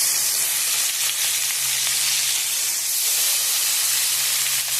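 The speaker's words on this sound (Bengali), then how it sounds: "তেলটা গরম হয়ে গেছে, মাছগুলো দিয়ে দেবো।" Fish fry in hot oil in a home kitchen, giving a dense, continuous sizzle and crackle close by, with no talking over it.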